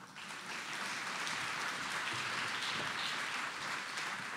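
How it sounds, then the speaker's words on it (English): An audience applauds steadily after a conference presentation, a dense, even wash of clapping sustained throughout with no talk over it. "Let's have a big round of applause for those people presenting"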